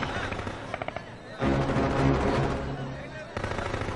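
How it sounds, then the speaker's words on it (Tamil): Rapid gunfire and explosions fill an action scene from a Hollywood superhero movie dubbed in Tamil, with bursts of shots and booming blasts under loud dramatic sound effects and scattered voices. "அவங்க தொடர்ந்து சுட்டுக்கிட்டே இருக்காங்க."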